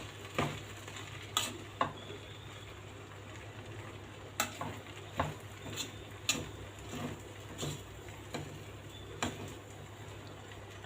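Egyptian rice stirred in a pot with a spoon, about a dozen soft scraping knocks at irregular intervals over a low steady simmering hiss, close and quiet, without talking.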